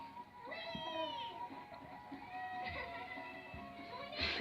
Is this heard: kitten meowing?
yes